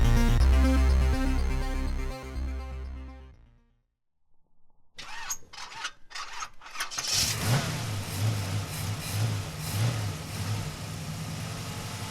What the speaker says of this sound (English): we go wheeling in the desert